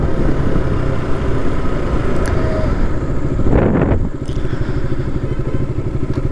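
A motorcycle runs loud and close with a continuous rumbling drone, buffeted by wind noise and a few clattering thumps along the way.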